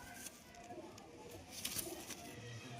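Faint, low cooing from pigeons, including a Punjabi hen pigeon kept for sale, with soft repeated coos over a quiet, distant background.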